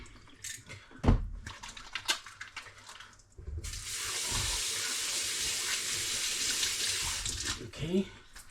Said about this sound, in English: what I'm going to do here is wash my hands